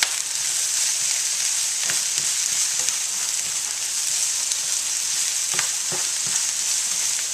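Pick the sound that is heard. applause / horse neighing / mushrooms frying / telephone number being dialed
mushrooms frying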